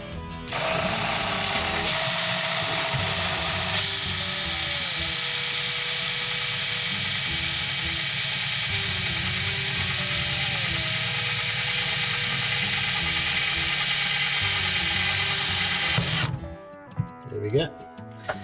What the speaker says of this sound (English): now I'm just going to drill